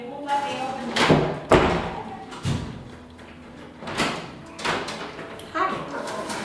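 An elevator door and its gate, on a car that has dropped half an inch out of level, are worked open: a series of loud thumps and sliding clatters, spaced a second or so apart, heard up close.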